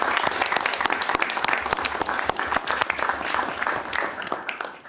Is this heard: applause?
yes